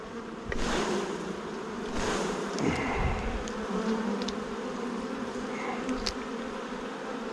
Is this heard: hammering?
no